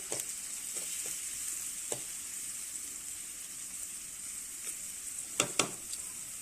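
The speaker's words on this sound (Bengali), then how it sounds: "পেঁয়াজটাকে হালকা ভেজে নিব" Onion lightly frying in a pan, a steady hissing sizzle with a few sharp clicks and scrapes of the spoon near the end, fairly quiet and without speech.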